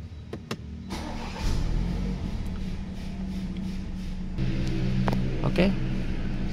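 A BMW 730Li M Sport G12 from 2019 starting up with a starter crank, then the engine settling into a steady low idle inside the car, with a few faint clicks and interior noises.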